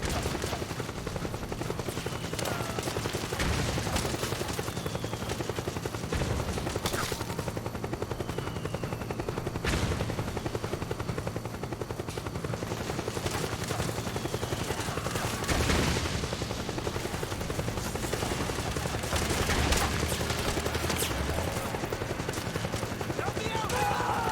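Helicopter rotor drone mixed with bursts of gunfire and machine-gun fire in the video game Metal Gear Solid 4, a steady loud battle din with sharp shots scattered throughout while a player talks over it.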